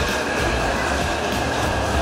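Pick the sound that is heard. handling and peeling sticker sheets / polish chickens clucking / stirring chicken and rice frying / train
train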